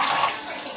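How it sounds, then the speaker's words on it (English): Running tap water splashes over hands at a sink, a steady close rushing flow with no pauses in a short burst. "First things first, wash your hands."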